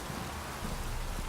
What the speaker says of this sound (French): Il pleut beaucoup, ouais.